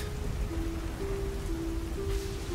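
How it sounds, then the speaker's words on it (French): Rain falls on the hood of a car, a steady close patter of drops on metal with a faint tonal hum underneath and no voices. "La pluie tombe sur le capot de votre voiture"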